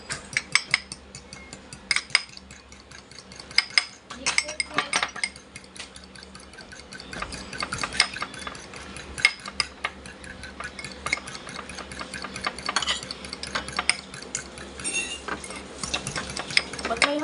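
A fork stirring banana cake batter in a bowl, with steady repeated scraping and clinking of metal against the bowl, close up and continuous for a long stretch.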